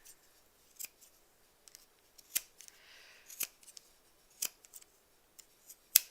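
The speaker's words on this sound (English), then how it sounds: "I'm going to have to cut it in bits again." Scissors snip through fabric scraps, cutting them into small pieces with a series of sharp, separate clicks spaced irregularly and heard up close in a quiet room.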